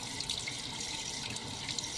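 Hot water running steadily from a kitchen sink tap during dishwashing, a loud, close, continuous rushing hiss with no pauses or voices.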